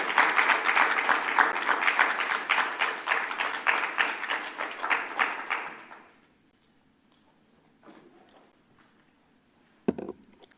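An audience at a community poetry dialogue applauds to welcome poet Deborah Kuan: steady, full clapping for about six seconds that then stops abruptly, followed by near silence with a few faint shuffles and a sharp knock.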